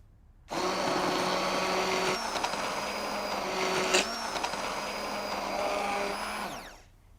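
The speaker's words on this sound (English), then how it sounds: "Now you can put this in a processor or you can use a hand blender." A hand blender whirs steadily for several seconds at close range in asparagus soup, its motor pitch wavering slightly as it works, then winds down.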